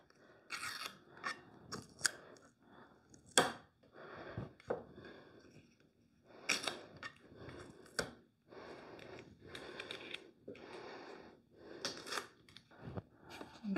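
Scissors snip repeatedly through painter's tape while stripes are masked off on a jewelry armoire being painted, giving a series of close, crisp cuts and rustles with short pauses between them and no voices.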